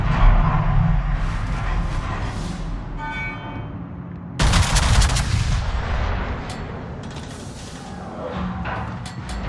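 Heavy naval guns of the battleship Montana in World of Warships fire with deep, booming blasts, including one especially powerful salvo midway, followed by rumbling echoes and scattered further shots.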